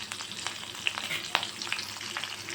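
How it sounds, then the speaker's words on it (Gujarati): Whole spices, mustard seeds, asafoetida, carom seeds and sliced chilies sauté in hot oil for chhole, a steady close sizzle with scattered sharp pops and crackles, no voices. "બધા જ ખડા મસાલાને આપણે સાતળી લઈશું તેલમાં।"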